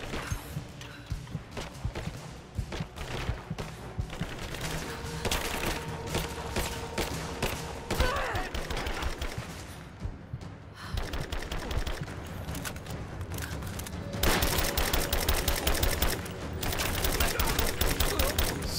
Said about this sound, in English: Tons of explosions!